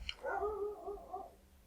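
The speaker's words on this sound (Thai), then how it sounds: "หมาก็ยังเห่าต่อไปนะครับ" A dog barks repeatedly in the survival game Stranded Deep, a short burst of yelps and whimpering barks at close range, heard alone without talk.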